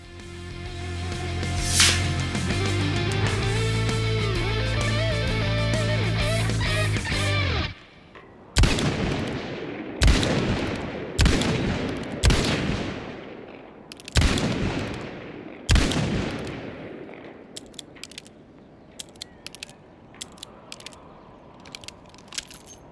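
Gunfire from a Smith & Wesson revolver in the Indiana Jones and the Great Circle game: after a stretch of droning music, a series of loud, sharp single shots ring out at irregular intervals, followed by lighter mechanical clicks and clacks of handling.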